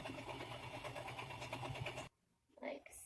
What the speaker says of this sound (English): we're going to actually just go ahead and finish sewing up all the 3 other sides